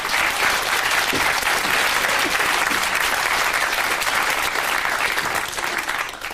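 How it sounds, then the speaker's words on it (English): Studio audience at a Sooty children's show gives a round of applause, a dense, steady burst of many hands clapping close by that holds strong throughout and tapers only slightly at the end. "We'll give him a round of applause then."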